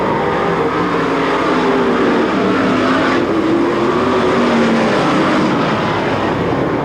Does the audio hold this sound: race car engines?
yes